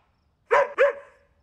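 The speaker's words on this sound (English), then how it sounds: "Why is that dog barking?" Two quick, close dog barks in a row, the second trailing off, in a family sitcom scene, with no other sound around them.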